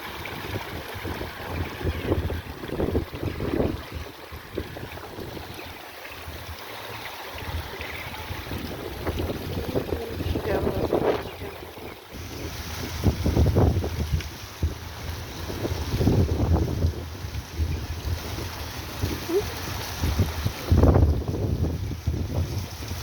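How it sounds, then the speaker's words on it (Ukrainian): Steady wind buffets the microphone outdoors in Ukraine, rushing and gusting with a low rumble, rising in a few stronger bursts. "сьогодні вітряно"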